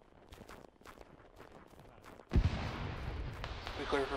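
Gunfire rings out from a tower in a military video game. Faint footsteps and scattered small cracks come first, then a sudden loud shot at about two and a half seconds, followed by sustained noisy rattle and further reports.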